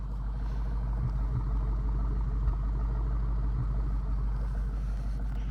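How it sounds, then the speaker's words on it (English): A 2017 Ford Mustang GT Performance Pack fitted with a Borla exhaust idles steadily, a continuous low rumble with faint periodic pulses, no speech over it. "It's got a Borla exhaust."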